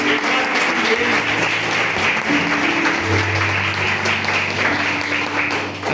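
Church congregation applauding during a service, a loud continuous wash of many hands clapping with sustained musical tones underneath.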